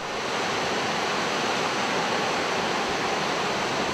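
A waterfall in the Altai mountains roars steadily and loudly, a dense continuous wash of falling water with no voices.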